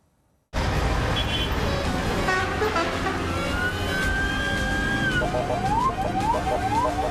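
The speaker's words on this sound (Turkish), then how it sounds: "İnşaat sesi, Korna sesleri rahatsız ediyor." Dense road traffic roars steadily, with a long sustained horn tone and a few short rising honks or whoops toward the end.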